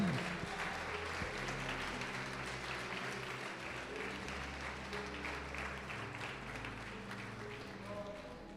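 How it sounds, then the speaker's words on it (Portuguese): A church congregation applauds to glorify the Lord during a sermon, a dense, steady wash of clapping at moderate distance, fading slightly toward the end with faint voices mixed in. "Pode aplaudir e glorificar o Senhor"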